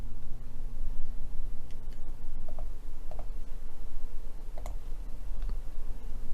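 A handful of sharp, separate mouse clicks while a web page is being edited, heard close over a steady low hum, with gaps of about a second between them and no talking.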